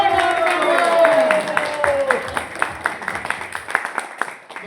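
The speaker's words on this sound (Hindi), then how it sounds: "बहुत जोरदार तालियां।" An audience at a leaders' summit in Manali claps loudly as a dense crowd patter. It thins into quicker, sparser claps as it tails off, and a voice speaks over the start.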